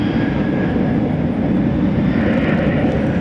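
American Airlines Boeing 737-800 rolling for takeoff at DFW airport at night, a steady loud roar of jet engines with a faint whine, continuous over a few seconds.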